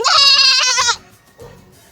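A goat lets out a loud, close bleat lasting nearly a second, followed by a fainter, shorter bleat.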